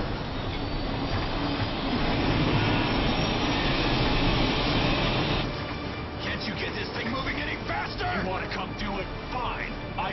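Train in the video game Bulletstorm, a steady loud rumble of rolling wagons with metallic screeching and squealing wheels in the later part, heard under someone talking.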